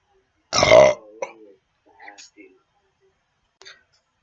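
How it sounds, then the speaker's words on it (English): One loud, long burp right after drinking soda pop, close and resonant, followed by quiet breathy mouth sounds and a few soft clicks. "my whole body shaked, vibrate or something a little bit when I burped that big"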